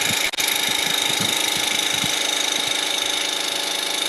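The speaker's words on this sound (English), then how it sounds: "Like the sound of this saw, I forgot how quiet it was too." A power saw runs steadily at full speed, a close, continuous high whine with a low rumbling pulse beneath it and a brief dip near the start.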